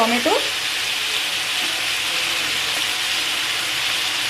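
Chopped tomatoes going into frying chicken and vegetables in a pan, a loud, steady, hissing sizzle that holds throughout after a brief clatter at the start, with no talk.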